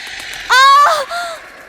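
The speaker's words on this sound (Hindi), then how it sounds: "हे ईश्वर, इस पक्षी की आवाज इतनी भयानक थी।" A single harsh, crow-like caw cries out loud and close in a horror audio drama, followed by a shorter, fading second note against near silence.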